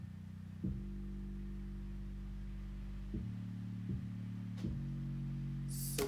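An aggressive sub bass in a trap/rock production plays deep sustained notes that change pitch every second or so, heavy and steady in the low end, with a cymbal-like hit near the end and no talking.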